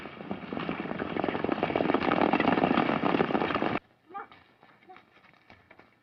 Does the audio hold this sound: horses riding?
yes